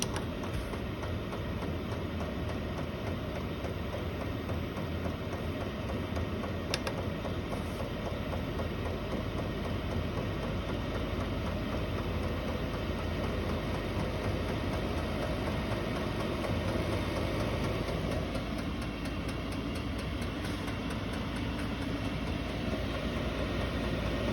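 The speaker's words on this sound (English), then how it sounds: "Turn it all the way up and you can hear the fan and the pump increase." Chinese diesel RV heater installed in a snowmobile trailer, running at full power: a steady, loud broadband whir of the fan with a continuous mechanical hum from the pump, constant throughout with no talk.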